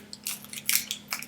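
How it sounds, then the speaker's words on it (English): A few quick crisp snips of scissors cutting through a Model Magic clay package, close and fairly quiet, in short irregular bursts. "get a scissor, cut through it"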